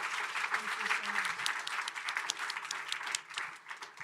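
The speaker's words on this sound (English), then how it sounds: "Can we give a big round of applause for our three speakers?" An audience applauds speakers after a panel at a Food Day event at the UN General Assembly, giving a dense, sustained clapping that stays lively throughout and tapers slightly at the close.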